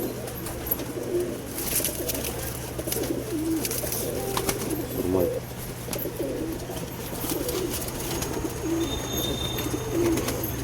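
Racing pigeons coo steadily inside a loft in Kannur, their low, rounded calls repeating every second or two over a constant background hum, with occasional faint chirps from other birds.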